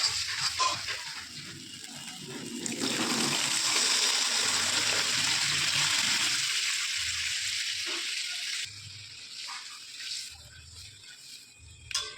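Water is poured into banana frying in a pan, giving a loud burst of hissing sizzle and gushing that rises over several seconds, then settles into quieter bubbling with occasional light clinks.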